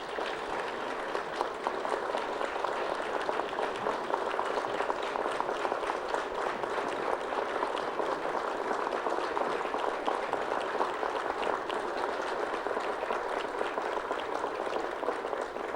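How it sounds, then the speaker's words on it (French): Sustained applause from a seated audience honoring ministers at a regional tourism organization meeting, a dense, even roll of many hands clapping at moderate distance, continuing unbroken for about sixteen seconds with no speech over it. "Je demande à mes collègues, les pido a mis colegas, de se mettre debout, de levantarse pour de très chauds applaudissements."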